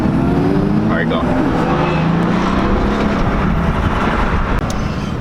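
Exhaust notes of German cars, including BMW M3, M4 and 335 models, revving at a car meet: a dense, loud roar of several engines blending together, with faint shouting voices in the crowd.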